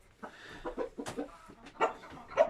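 A Shamo chicken clucks softly in short, uneven bursts, fairly close but quiet, with no other sounds around it.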